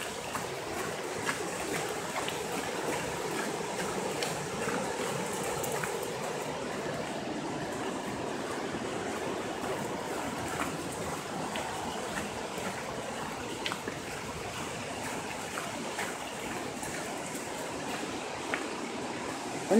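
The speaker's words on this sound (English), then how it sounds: "Almost at the big waterfall, the Whangarie Falls." Whangarei Falls, a large waterfall, gives a steady, continuous rushing wash from some distance, even and moderately faint throughout with no voices.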